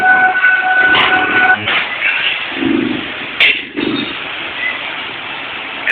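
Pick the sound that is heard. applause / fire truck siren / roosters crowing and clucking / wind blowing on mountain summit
fire truck siren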